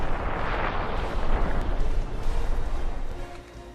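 A huge nuclear missile blast, a 15-kiloton North Korean warhead detonating over central Seoul, rendered as a dense, sustained roaring rumble with booming low-end surges that hold steady and then slowly ease off.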